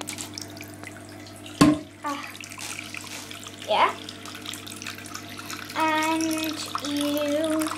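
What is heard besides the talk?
hot water running from a tap into a sink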